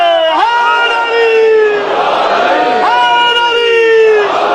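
A large crowd at a Shia religious majlis loudly chants devotional slogans in unison, rising and falling voices repeating in waves that fill the space continuously.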